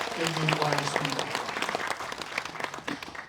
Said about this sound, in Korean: 여러분 박수로 격려해 주시기 바랍니다